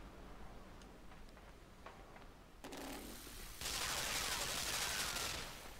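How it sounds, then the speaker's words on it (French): Rapid machine gun fire in the side-scrolling game Limbo, sparse faint ticks giving way to a steady, loud, dense rattle that continues to the end. "C'était la mitrailleuse qui faisait cette musique là."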